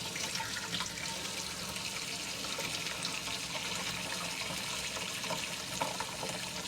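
Water running steadily from a tap into a sink in a camper's kitchen, a continuous hiss and splash at moderate level with no talk.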